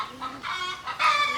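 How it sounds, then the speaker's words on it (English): Chickens clucking in a backyard garden, several short close clucks in quick irregular succession, clear and fairly loud with no talking. "as you can hear the chickens in the background"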